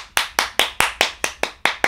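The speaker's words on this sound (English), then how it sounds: "have to give you a clap." Hand clapping, nine crisp close claps in an even, steady rhythm of about four per second, with no talking.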